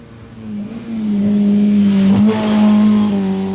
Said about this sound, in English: scatters the tyres on a track that he knows well from his rallycross outings